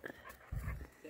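Close, quiet panting and brief whimpering from a dog outdoors, soft breathy bursts that come and go over a faint background.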